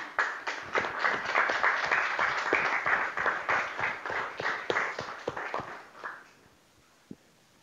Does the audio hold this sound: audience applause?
yes